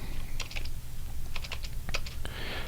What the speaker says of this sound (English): So we type in ST